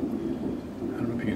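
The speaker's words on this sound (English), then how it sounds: "I don't know if you can hear the thunder in the background." Low thunder from a passing summer storm rolls steadily in the background, a muffled, continuous rumble with faint rain texture heard indoors.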